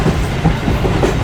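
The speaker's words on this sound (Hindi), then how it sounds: "11:30 पर ट्रेन हमारी अप्रोच बना रही है साहिवाल रेलवे स्टेशन पर" A passenger train of the Pak Business Express running on rails near Sahiwal station, a loud continuous rumble with rhythmic clickety-clack of wheels over rail joints, heard from inside.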